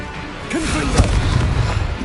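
Confringo blasting spell exploding in Hogwarts Legacy, a single loud, close burst of fiery blast around the middle, with a rumbling tail and a brief voice just before.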